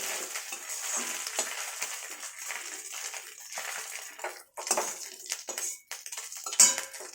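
Fried fish is lifted out of a kadai with metal utensils: repeated clinks and scrapes against the pan over a soft background sizzle, close and irregular.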